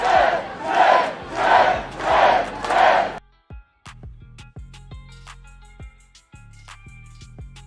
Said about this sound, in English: Man, we got to give my man a round of applause for that.